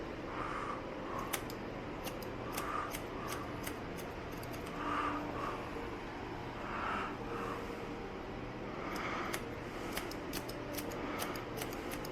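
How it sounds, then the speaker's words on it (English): Barber scissors cutting hair during a high taper haircut, a sparse run of crisp snips coming in small bursts close by over a low steady room hum. "Scissors."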